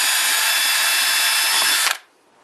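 Close, loud whine of a power drill with a 3.2mm bit boring a hole for servo motor wiring, running steadily for about two seconds before cutting off abruptly into near silence.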